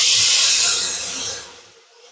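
Water poured onto hot frying masala for a vegetarian ghugni bursts into a loud, close hiss of steam that fades away over about two seconds, with no voice.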